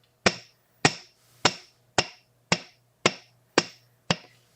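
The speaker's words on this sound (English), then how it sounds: "I do half of my hammering on the steel block and half of it on a nylon block." Eight sharp metallic hammer strikes on a metal earwire resting on a steel bench block, evenly spaced about half a second apart, close and clear against a quiet background with a faint low hum.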